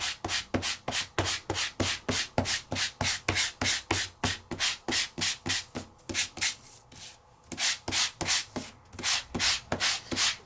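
Sandpaper on a Sizzix sanding block rubs back and forth in a quick, even rhythm, roughly two dozen close scratchy strokes with one brief pause midway.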